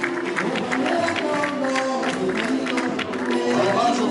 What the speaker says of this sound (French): Sous vos applaudissements toujours,